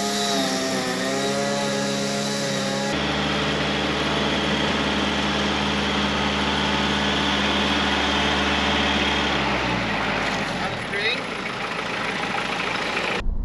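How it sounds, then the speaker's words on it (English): A Mahindra 5010 tractor's diesel engine runs steadily and close, shifting to a rougher, louder throb partway through before winding down near the end, with talk over it. "So we're going to get the tractor out, get her loaded up, get her on the road,"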